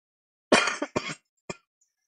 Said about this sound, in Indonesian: Mohon maaf agak batuk ya.